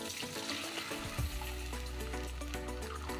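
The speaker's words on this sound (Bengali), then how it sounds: "আমি এই তেলে দিয়ে দেব সর্ষে বাটাটা।" Mustard paste thinned with water hits hot oil while cooking taro leaves for a hilsa recipe, giving a steady loud sizzle and crackle that runs throughout, with a brief deeper splash of bubbling as it goes in.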